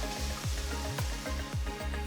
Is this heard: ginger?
yes